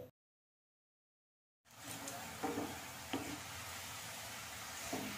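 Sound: onions deep frying in oil on high to medium flame

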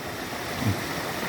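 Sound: river flowing

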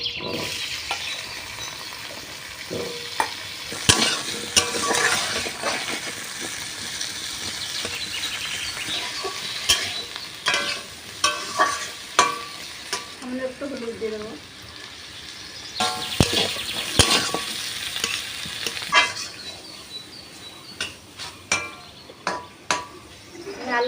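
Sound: potatoes frying in leftover eggplant oil

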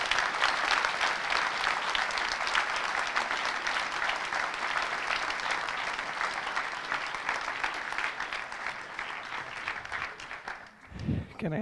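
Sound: audience applause for panel speakers

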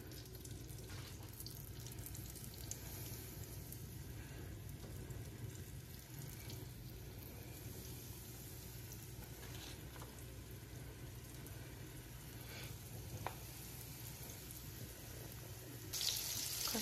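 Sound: cutlet frying in a pan

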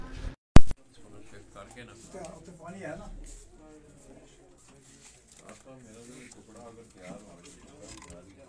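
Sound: pigeons cooing

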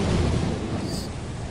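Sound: thunder from lightning in a video game

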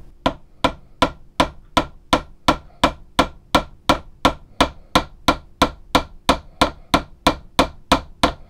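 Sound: hammer peening bolts over into rivets on a knife handle

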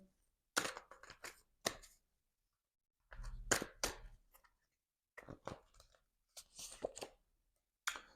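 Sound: shuffling tarot cards

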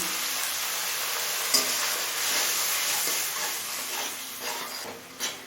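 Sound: spices with water cooking on high flame

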